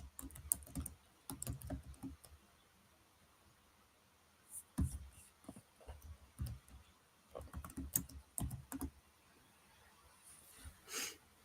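Bursts of computer keyboard typing come in short clusters separated by pauses, fairly close and quiet, with faint breathing between them.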